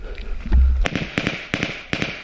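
Gunfire crackles near a building in a combat game: a heavy thud followed by a rapid string of sharp, fairly close shots in uneven bursts.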